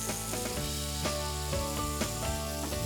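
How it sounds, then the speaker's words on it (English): Albacore tuna sears directly over a wood fire, giving a continuous close hiss and sizzle with occasional crackling pops under a steady tonal hum, and no talking. "move the albacore directly over the wood fire"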